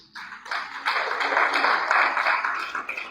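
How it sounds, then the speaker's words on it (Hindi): A church congregation claps together in a sustained burst of applause that swells and holds for a few seconds, fairly close and filling the room. "ताली बजा दीजिए।"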